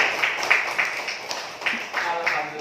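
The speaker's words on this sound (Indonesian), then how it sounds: "Tepuk tangan." A fifth-grade class of pupils claps together in a classroom in an even, patterned rhythm of quick claps, with young voices chanting along over the claps.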